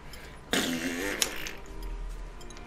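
A long, loud, rasping fart erupts and trails off over a couple of seconds against low background noise.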